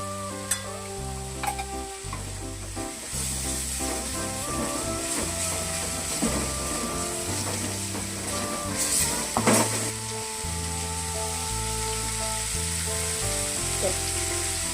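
Ginger garlic paste sizzles and fries in a pan for a chicken fry, a steady hiss under loud background music for the whole stretch.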